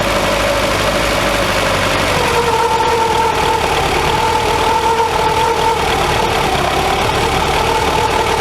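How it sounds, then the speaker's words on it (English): Barn-find Volkswagen Scirocco engine running at a fast idle after a warm-up regulator rebuild, a loud, close, steady hum with a faint tonal whine that drifts slightly lower as it settles. "Idle's fast. Let's see if it'll come down to normal idle."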